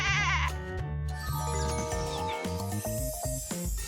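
A goat bleats in a few wavering calls, close and clear, over a bright jingling music track with no talk.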